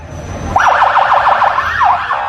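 A patrol police car siren wails in fast, rising-and-falling sweeps that start abruptly after a brief lead-in, then hold loud and steady until the end, with no voices.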